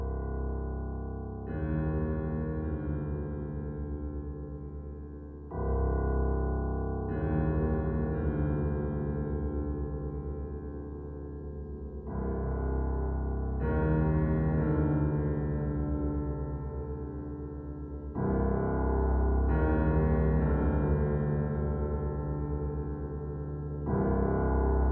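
Synthesizer plays a dark, brooding mob boss theme written for solo cello, sustained low chords in long phrases that swell and restart every few seconds, alone with no talking.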